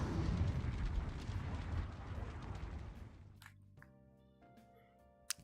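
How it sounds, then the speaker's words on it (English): A video game character breathing fire, a loud roaring whoosh that gradually fades over a few seconds into quiet tones, with a faint pop near the end. "I can breathe fire."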